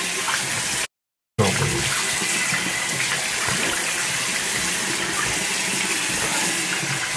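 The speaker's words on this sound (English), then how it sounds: "I'm gonna wash it with cold water now." Cold tap water pours into a sink for face washing, a close, continuous gushing splash cut off by a brief silent gap near the start before running on steadily.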